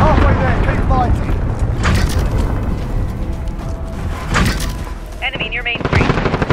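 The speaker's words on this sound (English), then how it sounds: "Allied cruise missile away." Call of Duty Modern Warfare 2019 firefight as an allied cruise missile strike lands, loud bursts of rapid gunfire and heavy booming impacts packed together, with voices calling out over the chaos.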